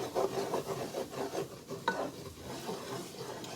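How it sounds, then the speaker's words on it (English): A spoon scrapes and stirs a flour-and-fat roux in a pot in repeated quiet rasping strokes with a soft sizzle underneath, close up and alone. "We have to keep stirring it until it gets to be like a caramel."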